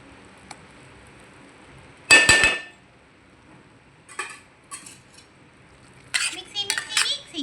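A spoon scraping and clinking against a pan while stirring carrot halwa, in several short bursts separated by quiet, with a few metallic knocks near the end.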